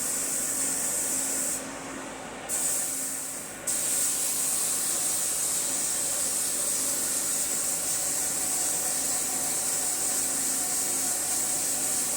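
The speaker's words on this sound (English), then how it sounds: "We'll go ahead and scuff our sealer" Steady, continuous abrasive scuffing of grain-filled wood sealer with a hissing, rushing texture, broken briefly by a short pause, with constant machine-like background noise in a spray shop.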